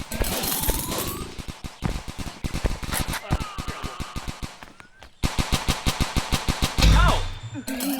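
Rapid automatic gunfire from a video game shooter rattles in dense, near-continuous bursts with a brief pause midway, while someone talks excitedly over the shooting.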